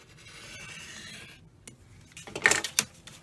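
Fabric seam allowance is trimmed against cardstock and paper for foundation paper piecing, with a faint rubbing scrape, a soft tap, then a short, loud close burst of cutting and scraping.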